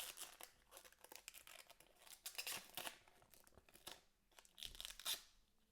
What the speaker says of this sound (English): So let me remove this sticker.